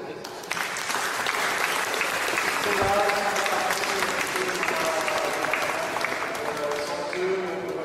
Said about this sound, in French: Je vous demanderai de les applaudir.